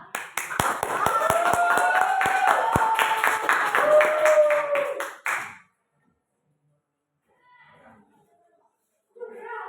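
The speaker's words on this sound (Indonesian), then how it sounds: "Aplaus untuk teman kita yang telah menjawab" A few sharp claps ring out for a classmate who answered during a classroom teaching practice, brief and mixed under loud overlapping voices before the room falls quiet.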